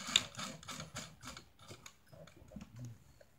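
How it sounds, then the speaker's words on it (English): An overlocker sewing machine trims and overlocks a seam, giving quiet rapid mechanical clicking and ticking in uneven bursts, close by and fairly faint. "I'm overlocking the seam, just trimming it off, lining it up the seam that I've sewn with the foot"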